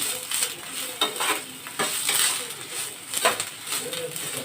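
Mustard seeds, chana dal, curry leaves and chopped onion fry in a pan, a close hissing sizzle broken by bursts of stirring, while a voice talks over it.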